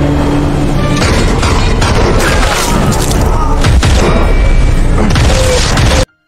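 Loud, dense gunfire and impacts from a sci-fi film scene aboard a spaceship as a character opens fire on the crew, sustained bursts and crashes that cut off abruptly at the end.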